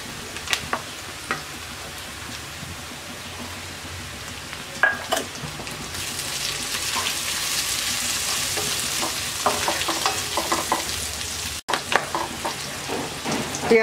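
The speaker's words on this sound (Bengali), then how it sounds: "এর সাথে আমি দিয়ে দিচ্ছি কাঁচামরিচ ফালি দিয়ে আরও 2 মিনিট ভেজে নেব।" Sliced onion, garlic and green chili sizzling and frying in a pan for a Bangladeshi cabbage dish with dried shrimp, with a steady hiss broken by occasional spatula scrapes and stirring clicks.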